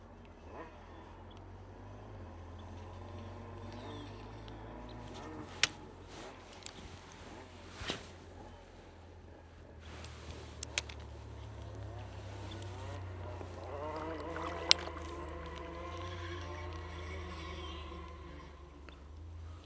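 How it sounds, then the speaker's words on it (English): Two-stroke boat engine out on the water, a distant droning motor whose pitch rises and falls as it passes, with faint clicks and occasional wind. "I don't know what that was, some kind of two-stroke."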